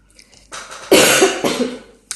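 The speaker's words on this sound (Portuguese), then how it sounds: "eu tô gripada, não tem como evitar a tosse" One woman with a flu gives a harsh, close cough in a couple of bursts, with a short throat-clearing rasp at the end.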